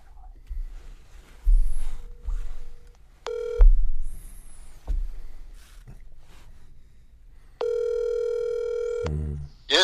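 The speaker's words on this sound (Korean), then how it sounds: "전화 연결 해보겠습니다" A telephone call is placed: a steady dial tone, short bursts of keypad dialing tones, then a long ring tone, with brief sounds of movement and breathing in between.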